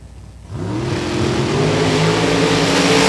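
Drag racing cars roar off the line at a hot rod reunion, two engines rising together from near silence into a loud, sustained acceleration that keeps climbing in pitch down the strip.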